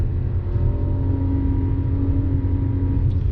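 A 2011 BMW E90 M3 engine growls under acceleration, a steady, throaty low rumble with a sustained tonal drone, heard loud from inside the car, with no talking.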